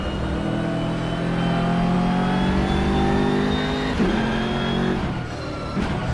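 BMW M6 GT3 race car engine in the rFactor 2 racing game at Mugello, a loud sustained high-revving roar held in gear with rising pitch, then a brief shift and lift near the end.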